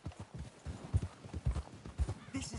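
Horse hooves from Red Dead Redemption 2 clip-clop in a steady walking rhythm, several horses on a snowy mountain trail, moderately close but fairly quiet.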